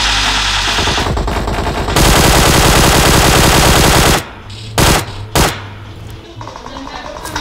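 Loud bursts of automatic gunfire in the video game PUBG, dense rapid shots in the opening seconds followed by a few separate single blasts, heavy and close.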